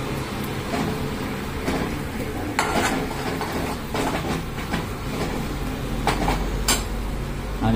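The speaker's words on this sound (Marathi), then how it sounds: "आणि त्याच्यात हे असे खेकडे टाकायचे आणि खेकडे चांगले परतून घ्यायचे" Crabs sautéing in Malvani masala with garam masala in a home kitchen pan, giving a steady close sizzle with scraping and stirring clatter of a utensil against the pot throughout.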